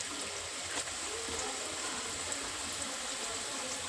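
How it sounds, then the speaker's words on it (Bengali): Potato sticks for French fries fry in hot oil, giving a faint, steady fizzing hiss that continues evenly with no voices over it. "এতটা এইভাবে ভাজবো তারপরে একটু তুলে নেব"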